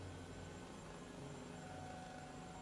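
Inside a video game, a helicopter drones with a steady low rotor thrum and constant engine hum, quiet and unbroken, with no one talking over it.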